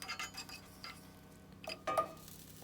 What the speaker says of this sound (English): Transfer our beef that's fully cooked into a pan.